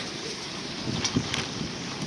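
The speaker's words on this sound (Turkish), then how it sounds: "Acayip bir rüzgar var." Blustery wind on a cold, early winter morning with light rain buffets the microphone in a steady broadband roar, with a few louder gusts rising and falling throughout.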